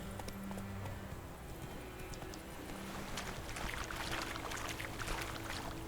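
Horse hooves clip-clopping at a steady trot in The Witcher 3 video game, with a continuous rhythmic beat over ambient outdoor game sounds and no talking.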